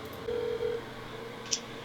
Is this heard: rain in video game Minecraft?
no